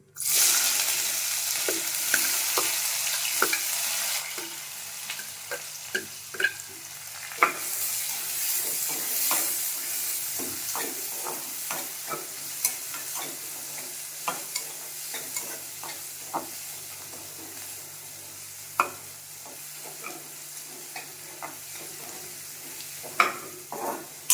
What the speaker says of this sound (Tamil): வெங்காயம் கட் பண்ணி வச்சுருக்கேன், போட்டுக்கலாம்.